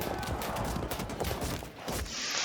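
Ranged units in the historical strategy game Field of Glory 2 loose a faint, continuous volley of shots, a dense crackling wash with no clear gaps.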